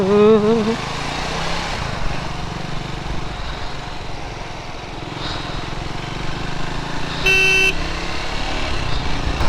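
Heavy highway traffic in India heard from a Triumph Scrambler motorcycle, engines droning steadily with a car horn honking near the start and another toot later, and a rider talking over the traffic.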